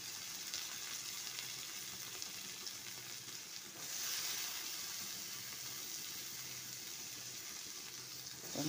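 Garlic and onions frying in hot oil for a potato, eggplant and kajoli fish curry, a steady close sizzle and crackle throughout, briefly louder around the middle, with no talking.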